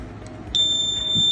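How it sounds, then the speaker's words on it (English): A 555 timer panic alarm circuit switches on and its buzzer starts a continuous shrill, steady electronic tone that holds without a break after a brief quiet moment, loud and close. "the buzzer will trigger."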